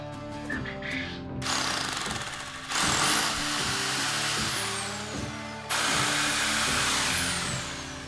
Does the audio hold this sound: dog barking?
no